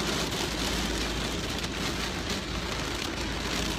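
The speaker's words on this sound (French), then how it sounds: "Il commence à grêler." Hail falling in Castres, Tarn, France, a dense, continuous, loud pattering hiss that fills the whole stretch with no voices.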